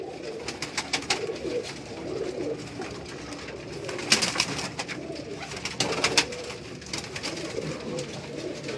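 Soft, repeated cooing of Ferozpuri pigeons with rustling and shuffling on a Karachi rooftop, several calls overlapping at close range, fairly steady throughout.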